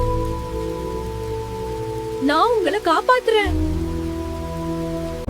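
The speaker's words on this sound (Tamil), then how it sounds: "உடனடியாக காட்டிற்குள் பலத்த மழை ஆரம்பித்தது." Heavy rain pours steadily through a forest, a continuous broadband hiss of drops with a low rumble underneath, while a voice speaks briefly in the middle of the downpour.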